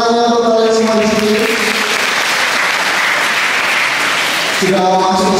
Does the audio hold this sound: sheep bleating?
no